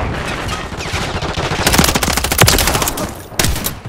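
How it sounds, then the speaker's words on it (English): Rapid automatic gunfire in a Call of Duty match, loud bursts of rattling shots that intensify midway, with a final short burst near the end. "I'm taking fire!"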